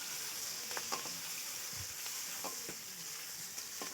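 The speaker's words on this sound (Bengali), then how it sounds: "এবার পেঁয়াজ কুচনো দিলাম, পেঁয়াজ কুচনোটা দিয়ে একটু ভেজে নেব।" Chopped onions with whole garam masala sizzling in hot oil in a pan for Bengali egg curry, a steady close frying hiss broken by a few light scrapes and stirs of the spatula.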